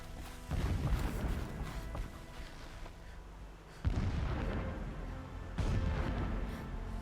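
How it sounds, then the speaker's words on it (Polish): Deep booming explosions in the video game Horizon Zero Dawn rumble in several heavy, sustained bursts, loud and low with rolling tails, with no talk over them. "Gdzie te eksplozje mają miejsce?"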